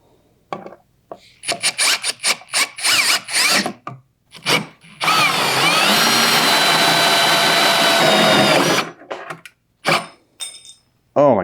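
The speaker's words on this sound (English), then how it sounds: "Wow, this is a dull drill bit." A power drill with a dull bit whines and grinds through material in short bursts, then one long continuous stretch of rough, rasping drilling, loud and close.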